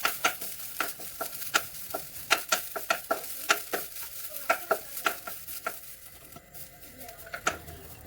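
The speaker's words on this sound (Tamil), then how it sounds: "கொஞ்சமாக நெய் சேர்த்து நம்ம துருவி வச்சுருக்க தேங்காவை சேர்த்து லைட்டாக ஃப்ரை பண்ணிக்குவோம்." Grated coconut fries in ghee in a pan with a soft sizzle, while a spatula repeatedly scrapes and stirs in quick, uneven taps.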